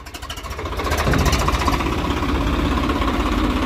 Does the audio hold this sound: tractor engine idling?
yes